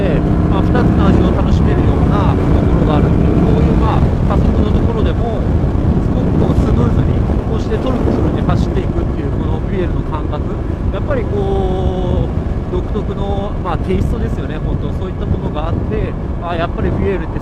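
A Buell XB12Ss motorcycle accelerating on a highway: heavy wind roar buffets the microphone, and a droning engine note with shifting tones runs beneath a rider talking throughout.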